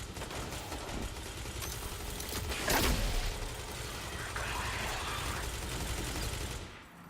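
Sustained gunfire from the video game Destiny 2: Forsaken, a dense, continuous barrage of shots with one louder burst near the middle, heard close and without talk.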